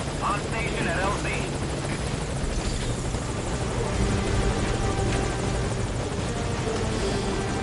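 A helicopter in Metal Gear Solid V, a loud continuous rotor thrum and engine buzz throughout, close and steady, with game voices speaking over it at moments.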